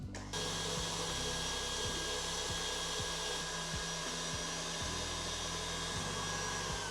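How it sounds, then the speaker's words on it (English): A KitchenAid stand mixer whips egg whites on low speed, its motor a loud, steady close whir with a faint rhythmic knock from the whisk, no voices. "Then we'll turn our KitchenAid on to a low speed until we form nice soft peaks."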